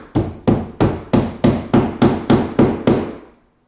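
A hammer drives nails into metal drywall corner bead during a kitchen cabinet renovation: nine sharp, evenly spaced blows, loud and close, each ringing briefly before the next, and no talk.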